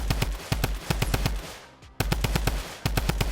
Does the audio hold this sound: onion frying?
no